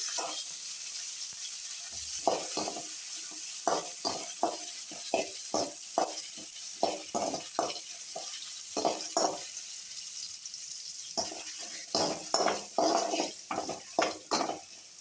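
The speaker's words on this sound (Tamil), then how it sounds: "நல்லா வதக்கணும்" Ingredients sautéing in a pan for Tirunelveli sothi kuzhambu, with chopped green chillies among them, over lowered heat: a steady sizzle under repeated sharp scrapes and clinks of a spoon stirring against the pan.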